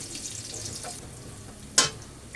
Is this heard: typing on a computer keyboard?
no